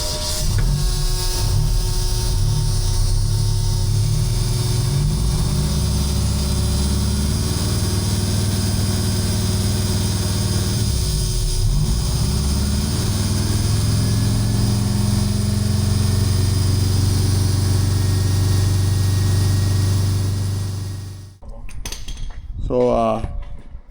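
A Western Star dump truck's diesel engine idles loudly and steadily for a long stretch, with a rough, rattling low throb and a brief dip partway through, before shutting off near the end amid a few clattering knocks.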